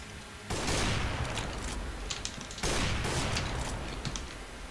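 Loud gunfire in a video game AWP sniper match: two sharp, heavy shots about two seconds apart, each bursting in close and trailing into a crackling rumble with smaller pops.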